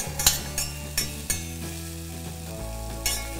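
Squash cooks in butter in a pan with a steady sizzle, broken by a handful of sharp clinks and scrapes of a utensil against the pan, close and fairly loud.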